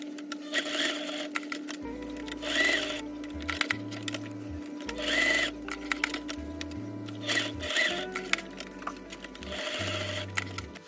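A sewing machine quilting zigzag lines on a no-lining bag, stitching in several close, loud bursts of rapid mechanical chatter separated by brief pauses and small clicks as the fabric is turned.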